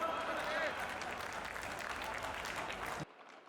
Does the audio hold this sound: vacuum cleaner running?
no